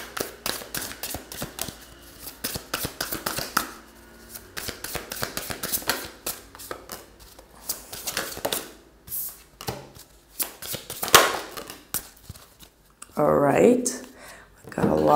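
Tarot cards are shuffled in a rapid series of close, soft riffling flicks and taps that keep going through the clip, with a person talking partway through and at the end.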